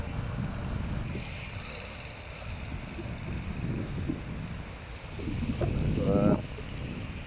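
Wind on a rainy, blustery day buffets the microphone outdoors with a continuous low rumble that swells in gusts.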